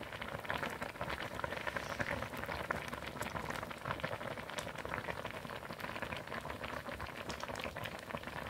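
Doenjang soup with anchovy broth and mugwort, onion, garlic and green onion bubbling away steadily in a pot, a dense continuous fizz and pop of small bursting bubbles heard close up, with no talking.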